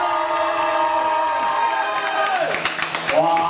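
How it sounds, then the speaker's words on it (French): A small audience of about sixteen people at a school wrestling show cheers and applauds loudly, a dense wall of shouting voices and clapping that swells toward the end. "On va applaudir très fort et crier le plus fort possible."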